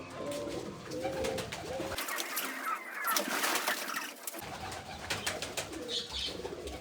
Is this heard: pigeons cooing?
yes